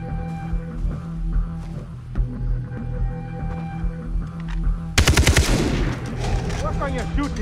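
Gunfire in Far Cry 3, rapid automatic bursts that kick in loud about five seconds in over a humming game soundscape, with a voice speaking earlier.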